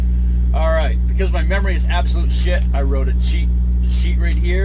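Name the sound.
truck refrigeration unit humming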